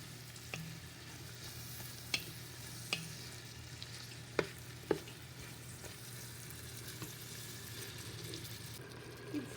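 Vegetables for a chicken vegetable stock sizzle steadily in a pot, a constant close hiss with occasional light clinks and taps of a utensil stirring.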